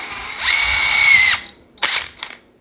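A Mac Tools MCF601 impact driver runs a bolt down with a loud, steady high whine for about a second, then pauses, followed by two short whirring bursts.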